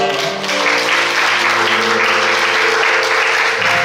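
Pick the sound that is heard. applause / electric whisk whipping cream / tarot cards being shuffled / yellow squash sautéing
applause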